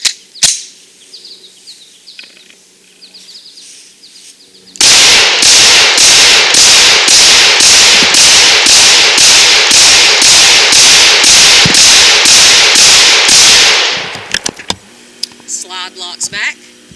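Glock 19 pistol fed from a Magpul PMag 17 magazine firing a rapid, evenly spaced string of about eighteen loud sharp shots at close range, with quieter handling noise before and after.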